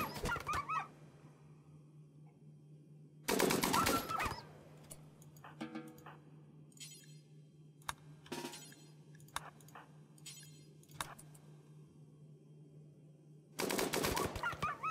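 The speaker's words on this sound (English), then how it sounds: "You are using the LMG. You're using also an LMG. Perfect. Fire at will." Light machine gun fire in RimWorld, heard as short dense bursts and scattered single shots over a steady low hum, with the loudest volleys at the start and end.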